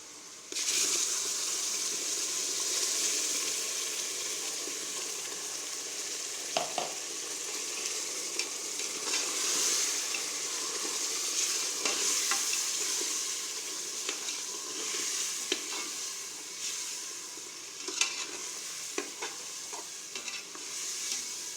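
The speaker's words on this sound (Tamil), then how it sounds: "நம்ம ஆட்டி வச்சுருக்க மசாலாவை எண்ணெயில் போட்டுக்குவோம்" Ground masala paste fries in oil for tomato rice, a steady, bright sizzle with intermittent stirring clicks and scrapes that continue close and unbroken for the whole stretch.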